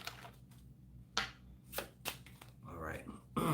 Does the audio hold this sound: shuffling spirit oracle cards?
yes